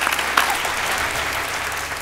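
An audience on a TV show bursts into applause, with brisk, dense clapping that is close and loud and holds steady for about two seconds.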